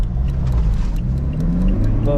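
A Toyota Fortuner 2017 with a 2.8L turbo diesel engine and manual 4x4 accelerates hard, its engine rumbling loudly and climbing steadily in pitch, heard from inside the vehicle.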